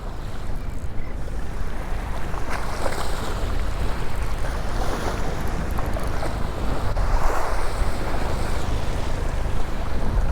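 Strong wind buffets the microphone over a steady roar of surf breaking nearby at the Port Aransas jetties, loud and continuous throughout with no voices.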